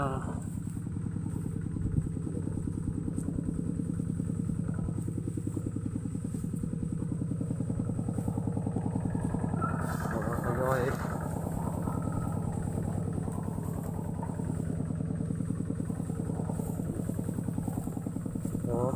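Farm tractor engine running steadily at a rice harvest, a continuous rough, clattering chug throughout with a brief change in pitch midway.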